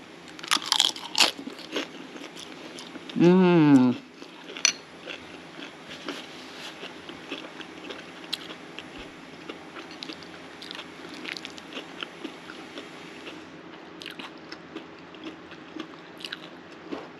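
Someone bites and chews a crunchy homemade dish topped with cheese, fresh cilantro and extra corn, making soft crackly crunches close by amid a quiet room, with a short vocal hum partway through.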